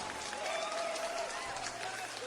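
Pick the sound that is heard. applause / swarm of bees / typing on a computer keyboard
applause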